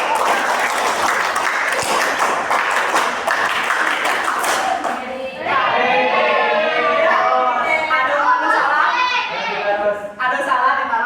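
Group of scouts performing the rhythmic tepuk pramuka clapping routine twice, brisk patterned claps first, then children chanting and calling out along with more clapping, loud and close.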